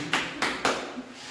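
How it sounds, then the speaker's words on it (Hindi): Three sharp hand claps spaced evenly a short moment apart at a home birthday celebration with cake, each crisp and close, with quiet background in between. "ये ताली बजा, ताली बजा,"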